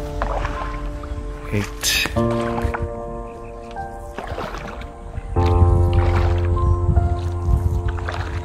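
Rowboat on a dark lake in India, with wet paddle splashes, drips and gurgling water close by. A person talks briefly over it, and a low, steady drone comes in partway through.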